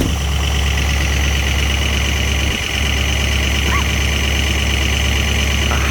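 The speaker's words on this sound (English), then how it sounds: "Should be hitting high idle here in a minute. There's high idle." A Jeep Grand Cherokee WJ engine warming up at high idle around 1,000 RPM, a loud, steady, unbroken drone heard close by with no variation.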